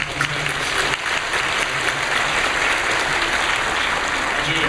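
A church congregation applauds warmly for newly introduced pastors, a steady wash of many hands clapping at even loudness for several seconds.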